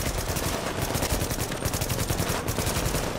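Continuous automatic gunfire in The Division, a rapid, unbroken stream of loud shots fired close by, with no pauses or voices.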